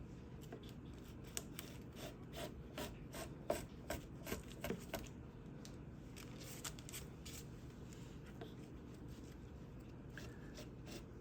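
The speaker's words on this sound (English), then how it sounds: "And I like to start with a larger chisel because they just they do a better job." Faint, irregular scraping and light ticking from a large chisel carving a spruce top brace on an acoustic guitar, quiet cuts repeating close by over a low steady room hum.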